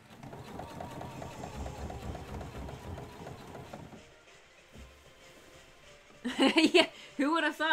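A sewing machine stitching a cosplay costume runs with a rapid, steady mechanical whir for about four seconds, then stops. After a quiet gap, short bursts of voice are heard near the end.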